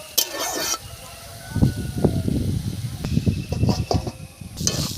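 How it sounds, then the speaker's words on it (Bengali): Garden cabbage fries in a pan in a village-style kitchen, giving a soft hiss and sizzle broken by stirring scrapes, with a few sharp clatters near the start and end. "দেখুন কত সুন্দর ভাজা হয়েছে।"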